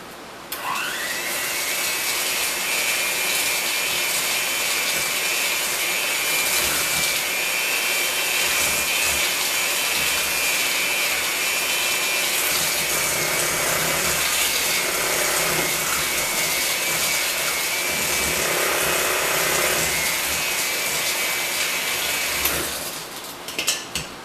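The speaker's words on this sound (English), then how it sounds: "now I'm going to mix it" Cookie dough for lemon cookies being blended with egg by an electric mixer, a steady loud motor whir running unbroken for about twenty-two seconds before stopping.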